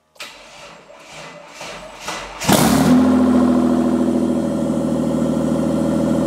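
A twin turbo Mitsubishi Triton skid car engine cranks over several times with the starter whirring, then catches with a loud burst and settles into a rough, steady, close idle.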